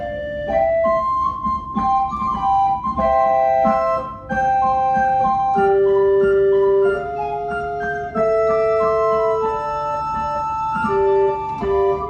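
Bright 4-foot concert flute stop on the choir manual of a very small three-manual pipe organ, playing a clear, steady melodic line of sustained high notes with soft accompaniment, alone without talk.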